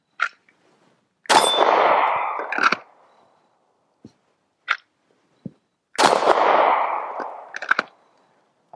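A magazine-fed rifle fires several loud, separate shots a second or so apart, some with sharp metallic clangs that ring and trail off into quiet outdoors.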